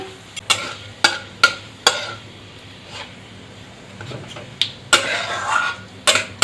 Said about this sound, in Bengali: এবার এর মধ্যে আমি শুকনো লঙ্কা ফোড়ন দেব আর কালো জিরে ফোড়ন দেব